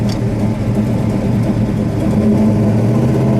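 A 1969 Dodge Charger R/T with a 426 Hemi and four-speed rumbles loudly and steadily up close as it pulls away, a deep continuous engine drone with no talk.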